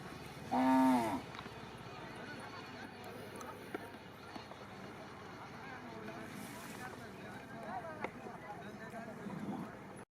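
A bull lets out one loud, drawn-out bellow early on at a bullock cart race, followed by a crowd's distant murmur and commentary over steady background noise.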